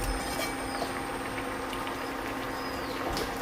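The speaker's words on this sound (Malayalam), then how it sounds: "ഇപ്പം വെള്ളം ചേർത്ത് കഴിഞ്ഞ് നന്നായിട്ട് തിളച്ചിട്ടുണ്ട്." Water boils steadily in a pot for a raw plantain curry, giving a continuous bubbling hiss at an even level with no talking.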